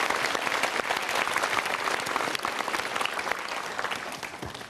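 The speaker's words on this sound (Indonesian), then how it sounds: "Good, super, kita berikan tepuk tangan." Dense, sustained applause from a seminar audience, loud and continuous throughout with no talk over it.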